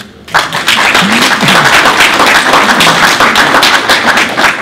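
A crowd at a town meeting bursts into sustained applause, many hands clapping loudly and continuously after a brief quiet start.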